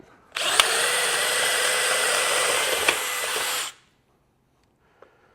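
A power drill fitted with a Hercules bit bores steadily for about three seconds, a loud close whine at constant speed that cuts off abruptly, followed by a faint click.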